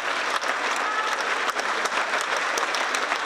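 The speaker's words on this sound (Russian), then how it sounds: "И вновь собравшиеся обрушили шквал аплодисментов." A full-house audience applauds the Yakutia Opera and Ballet Theatre on tour in Minsk, a thick, roaring wall of clapping from a large hall that stays loud and continuous throughout.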